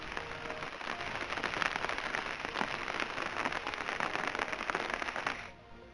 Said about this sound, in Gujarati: જિલ્લામાં કમોસમી વરસાદ અને ખેતરોમાં વરસાદી પાણી ભરાયા છે